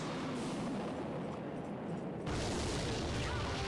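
In the mobile strategy game Clash Royale, a rocket spell lands with a loud, dense booming explosion that swells partway through and rumbles on to the end, with no talk over it.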